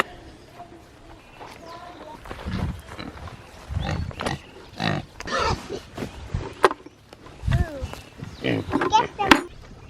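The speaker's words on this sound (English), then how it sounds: "Let's throw some of this into the pigs and see how they like it." Pigs grunting and snuffling repeatedly while eating free food thrown to them, close and fairly loud, with a person talking at times amid the grunts.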